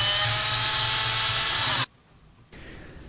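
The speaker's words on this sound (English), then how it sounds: "It hurts me to drill into these pristine A-pillar housings" A power drill bores into a car's plastic A-pillar housing to mount new tweeters, a loud, steady high-pitched whine lasting nearly two seconds before cutting off abruptly, followed by a brief quieter burst.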